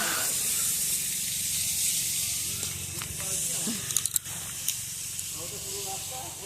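Water spraying steadily onto plants in a home garden as a mother waters them, a continuous hiss with a few small clicks and knocks near the end, and voices talking quietly in the background.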